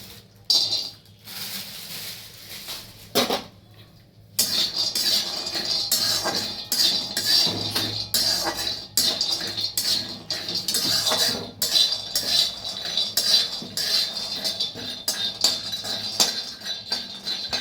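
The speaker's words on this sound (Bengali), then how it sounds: "একইভাবে আমন বাদামটাও ভেজে নিচ্ছি" Almonds dry-roasting in a pan while a utensil stirs them, with steady scraping and clinking against the metal that runs on with short pauses.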